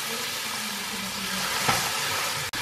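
Steaks searing in a hot pan on a stovetop, a steady broadband sizzle running throughout with a brief louder spit near the end, no talking.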